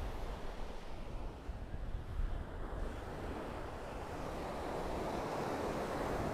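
Surf breaking steadily on a clean blue-flag beach of fine pebbly sand at Side, continuous wash of waves with light wind buffeting the microphone, no voices.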